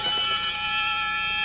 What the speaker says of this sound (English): Got it right on the buzzer.